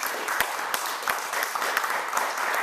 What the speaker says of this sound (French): applaudissements à mon ami, s'il vous plaît